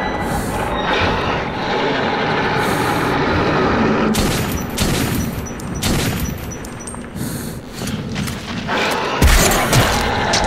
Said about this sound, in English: They keep shooting stuff.